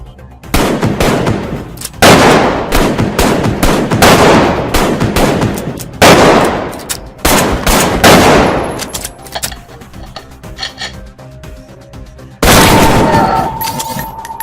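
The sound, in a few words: sniper and gunfire in a video game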